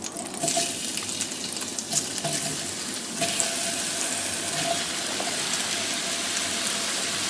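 Chopped onions hit a pan of olive oil and butter over medium heat, and a steady close hiss of frying swells noticeably a few seconds in and holds for the rest of the stretch.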